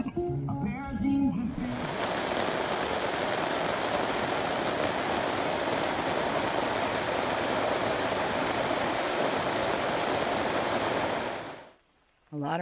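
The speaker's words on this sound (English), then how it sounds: "A lot of rain came down in a short amount of time." Heavy storm rain pours down on an off-grid building site. A dense, steady roar starts abruptly after a brief voice, holds for about ten seconds, then cuts off sharply.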